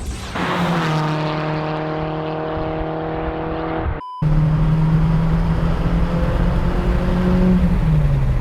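A loud Citroën Xantia engine drones steadily with strong harmonic tones, briefly cutting out, then resuming with a deep, throaty exhaust roar with the exhaust valves open.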